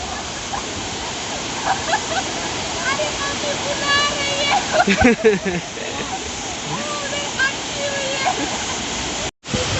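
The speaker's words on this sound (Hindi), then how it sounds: "फाइनली हम पहुंच गए हैं खंडाधर वाटरफॉल" Khandadhar waterfall in Odisha roars as a steady, loud rush of falling water close by, with people talking over it in the middle and a brief dropout near the end.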